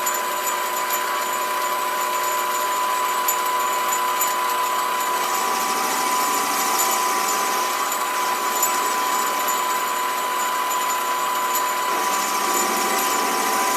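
A SIEG 7x14 mini lathe cuts a bevel with the cut taken too deep, giving a steady high motor whine and a continuous gritty cutting hiss that stays even and close throughout.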